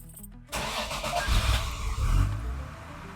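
A Toyota Supra MK3 engine cranks briefly, then catches and settles into a steady, loud idle with small rises in revs, heard up close with no talking.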